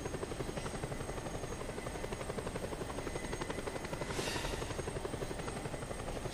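A badly damaged helicopter flies in the video game Just Cause 2, its rotor giving a steady, rapid thumping chop with an engine whine, loud and continuous throughout with no voices.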